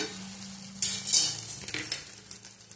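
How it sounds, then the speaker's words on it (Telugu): Tomato chutney cooking in a pan, a soft continuous sizzle with a spoon scraping and stirring in short bursts, close by and without speech. "ఇలా బాగా మధ్య మధ్యలో కలుపుకుంటూ ఉండాలన్నమాట"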